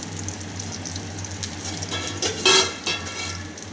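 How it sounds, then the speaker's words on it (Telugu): Nalleru (veld grape) stems hit hot oil with a soft sizzle and a few clinks and scrapes of a utensil against the pan, a brief stirring burst near the middle over a low steady hiss. "ఆయిల్ వేడెక్కింది. ఇందులో నల్లేరు వేసుకోవాలి."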